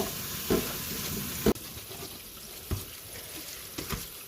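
Vegetables such as cabbage are rinsed under a running kitchen tap while cooking shrimp sour curry. Close, steady water flows throughout, broken by a few sharp knocks and splashes.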